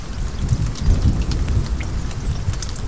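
Steady rain falls in the survival video game The Forest, a dense, even hiss of drops with low rumbling underneath like distant thunder, continuous and without speech.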